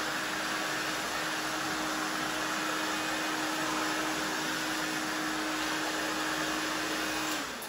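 Hair dryer blowing steadily while styling short pixie-cut hair, a loud continuous whoosh with a constant motor whine running for several seconds before cutting off near the end.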